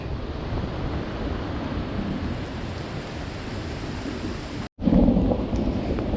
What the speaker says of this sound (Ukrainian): Все, пішов дощ.